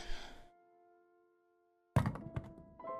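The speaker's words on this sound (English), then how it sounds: "I dropped the axe, exhausted." An axe dropped to the ground in the horror video game Tiny Bunny: a breathy exhale fades into a sustained game-music tone, then a sudden heavy thunk with a couple of quick knocking follow-ups.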